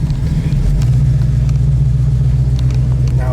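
A 1965 Ford Mustang Fastback idles warmed up at about 700 to 800 RPM, a loud steady low rumble close by that holds even throughout with no voice over it.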